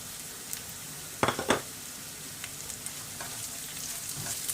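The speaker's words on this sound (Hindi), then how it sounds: "अब इसको इधर थोड़ी देर भूनेंगे इंशाल्लाह।" Onions, green and yellow capsicum and chili frying in a pan, a steady close sizzle with a few spatula scrapes and clinks in the middle and scattered pops.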